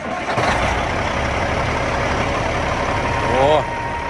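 A Kenworth W900L truck with a Cat 3406E diesel engine idles with a loud, steady rumble, swelling briefly near the end as the engine revs or starts up.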